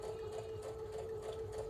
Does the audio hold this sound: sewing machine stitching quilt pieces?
yes